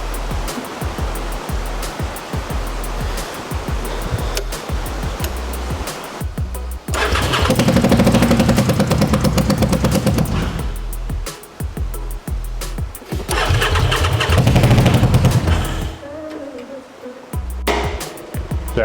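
Racing lawn mower engine running with its fuel pump on, a loud, close, rough mechanical roar that surges and drops in uneven bursts and briefly cuts out before picking up again.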